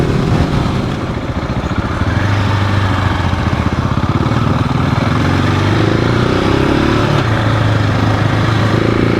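Husqvarna 701 and GasGas 700 motorcycles ride off-road on a Montana trail, a steady loud engine drone with a droning low hum running continuously throughout, no talking.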